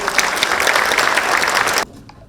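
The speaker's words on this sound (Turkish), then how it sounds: "Alkışlarımızla sayın Emin Çapagül'ü." An audience at a technology-themed talk at the Izmir International Fair claps in a loud, dense burst of applause that cuts off abruptly near the end, leaving faint room sound.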